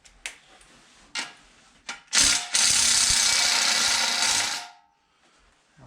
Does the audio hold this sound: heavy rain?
no